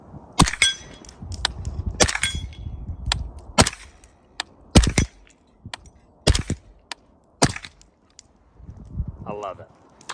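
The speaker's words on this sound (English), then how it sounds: "You are hearing it through video, which is an imperfect medium for you to hear a suppressed firearm through, but it sounded fantastic." Suppressed 300 Blackout firearm shots at an outdoor range, heard as sharp, fairly loud cracks spaced a second or so apart. Each shot decays quickly, with quieter clatter and movement between them.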